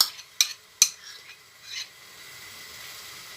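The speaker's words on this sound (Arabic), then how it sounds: "مادام الزبده تذوب وحنا تنحركوا هاد البصله مع الكرافس" Butter melting in a pan as onion and celery are stirred, a few sharp scraping clinks of a utensil against the pan over a faint soft sizzle, fairly close.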